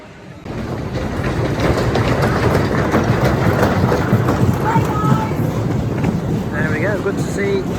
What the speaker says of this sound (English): Good to see a full train there. There goes the other one on the other side.